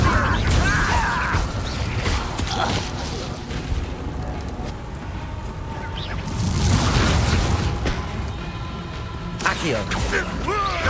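An Incendio fire spell cast in the Hogwarts Legacy video game gives whooshing, booming bursts over a dense, continuous mix of game effects, with a voice speaking at times.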